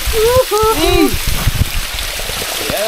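Water flowing and splashing at the Labi River falls in Nueva Ecija, a steady rushing wash heard close by, with people talking loudly and excitedly over it throughout.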